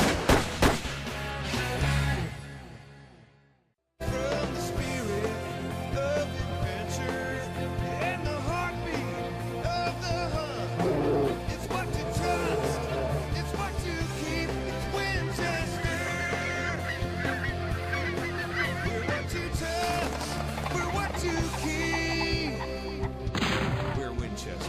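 Goose hunt with honking geese and gunshots, the scene dense and continuous with calls and shots layered over a steady background, a brief drop to near silence early on before the loud mix resumes.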